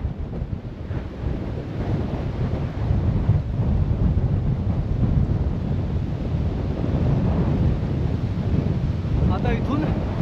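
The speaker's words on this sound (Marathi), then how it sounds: "हा दरीतून पूर्ण वरती येणारा हवेचा फोर्स आहे" Strong wind surging up out of a valley onto an exposed viewpoint on the Gorakhgad fort trek near Murbad, a continuous loud roar buffeting the microphone without letup.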